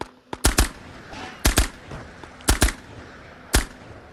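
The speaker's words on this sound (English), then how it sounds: "Whoever's shooting at me is getting real fucking close." Gunfire in the VR game Ghosts of Tabor cracks out in short double-shot bursts roughly once a second, sharp and close, with a low background hiss between them.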